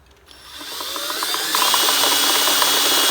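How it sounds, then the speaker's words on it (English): A power drill boring an 11/64 hole down through wood through a drill guide whirs steadily, rising in pitch and loudness as it bites in, then holding a constant grinding drone close by. "and drill down through."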